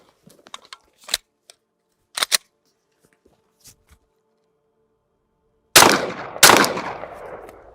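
Two loud, sharp gunshots from a pistol fitted in an MCK conversion kit ring out close together near the end, after several seconds of small clicks and handling noises.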